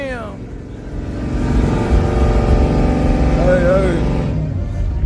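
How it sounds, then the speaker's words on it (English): A car engine revving at a drag racing event, a steady loud mechanical roar that swells midway and holds, with a voice calling out briefly and crowd chatter mixed in. "Who is this up here revving?"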